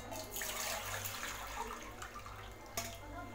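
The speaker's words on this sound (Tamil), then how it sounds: "எந்த அளவுக்கு நீங்கள் சர்க்கரை எடுத்திருக்கீங்களோ அந்த அளவுக்கு தண்ணி ஊற்றிக்கோங்க." Water is poured from nearby into a pan of sugar to make gulab jamun syrup, making a faint, steady splashing trickle that runs for a few seconds.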